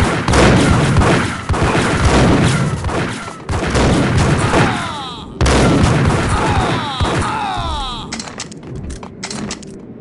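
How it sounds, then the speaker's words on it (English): Gunfire in the Max Payne Mobile video game: dense, loud volleys of shots rattle almost without pause, with brief gaps between bursts and ricochet-like whines near the end. "Gun him down!"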